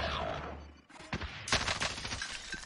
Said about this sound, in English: Let's go, rocket launcher.